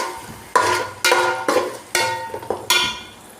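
Ginger garlic paste with cumin and turmeric is sautéed in a pan, heard as five or six sharp scraping, clinking stirs in a steady rhythm over a faint sizzle, with no talking.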